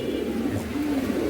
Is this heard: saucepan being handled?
no